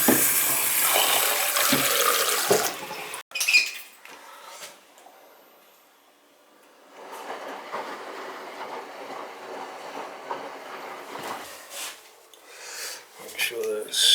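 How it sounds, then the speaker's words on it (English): Water gushes loudly from a pipe as supply is restored after a 50-gallon electric water heater drain replacement, cuts off abruptly, then returns as a steadier, softer rushing flow that swells again toward the end. "Water's back on."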